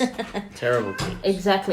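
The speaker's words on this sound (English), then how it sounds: "That's the cat in the background." A house cat meows twice in the background, each call short and fairly faint beneath men's ongoing conversation.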